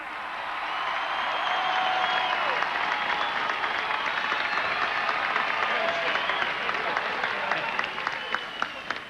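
A large parade crowd applauds the Yankees coaching staff at a 1998 World Series victory celebration, with sustained dense clapping and cheering filling the air steadily for the whole stretch.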